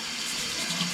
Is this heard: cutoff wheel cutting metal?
no